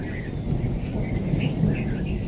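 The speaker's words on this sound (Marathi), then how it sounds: "कसलं गरजत आहे." Thunder growls low and sustained through unseasonal rain near a rural home with mango trees, a rolling rumble under steady rain patter, with a faint bird call and no speech.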